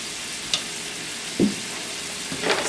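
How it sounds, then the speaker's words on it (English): Hamburger meat cooking in a pan with onion and garlic, giving a steady soft frying sizzle with a few brief stirring scrapes, close by and with no talking. "I'm cooking up my hamburger meat with the onion and the garlic"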